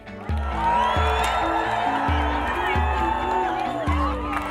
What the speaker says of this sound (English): they're gonna cheer so loud for you that it hurts their vocal cords